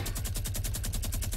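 Rapid Fortnite automatic gunfire, a steady burst of about a dozen evenly spaced close shots in quick rhythm, loud and without talking.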